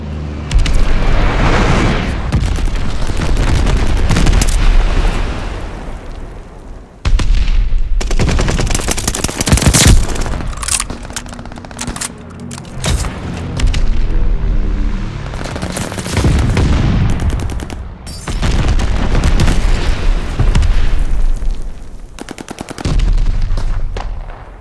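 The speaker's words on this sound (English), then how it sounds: "Enemy glide bomb coming in hot!" Call of Duty: Vanguard battle with glide bomb explosions and gunfire: loud booms, rattling machine-gun bursts and artillery-like blasts crowd together, pausing briefly before firing resumes in dense waves.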